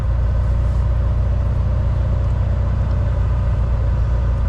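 Trucks idling in a line at a meat inspection point in the cold, windy dark before dawn: a loud, steady low engine rumble that continues without a break.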